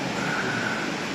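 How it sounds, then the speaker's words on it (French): Steady broadband rush of a waterfall cascading in the Vosges mountains, a continuous close hiss of falling water with no breaks, filling the short moment on its own. "C'est quand même celle-ci, la cascade."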